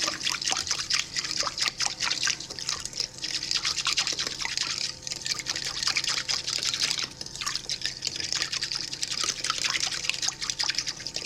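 Warm water poured into a bowl and whisked for pretzel dough, with close, continuous trickling and dribbling plus rhythmic liquid slaps and clinks of the whisk running through the whole stretch, no talking.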